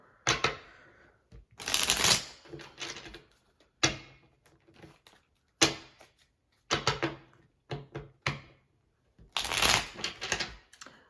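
A tiny tarot card deck being shuffled in a series of crisp, riffling bursts separated by short pauses, close and fairly loud, with no talking.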